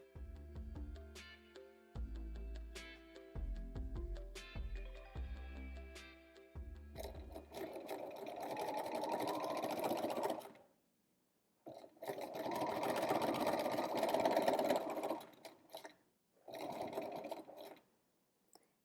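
A sewing machine stitches a fabric scrunchie made from scraps. Short rhythmic bursts come first, then longer runs of close, steady whirring separated by brief pauses.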